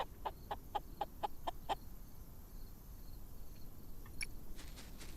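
Clucking from a chicken in a video game: a run of six or seven quick, evenly spaced clucks up close, followed by quieter scattered chirps over a soft background hiss.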